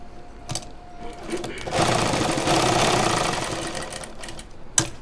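Sewing machine stitching a shirt collar, a close motor whir that rises into a sustained run of rapid stitching, with short bursts and clicks before and after.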